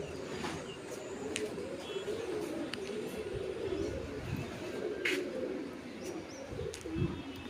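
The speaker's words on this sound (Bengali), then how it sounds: "কবুতরগুলো রোদ খাবে।" Pigeons sun themselves outdoors, their soft low cooing running steadily through the whole stretch under light outdoor ambience, with a few faint chirps and small clicks scattered over it.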